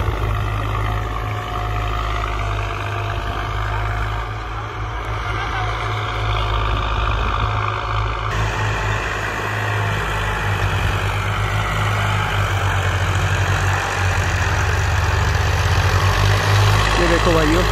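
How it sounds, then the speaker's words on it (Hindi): A Kirloskar diesel engine on a power tiller runs steadily at close range, a loud, even low-pitched throb that holds for the whole stretch. A voice is heard faintly now and then. "इसके अंदर किर्लोस्कर का इंजन है"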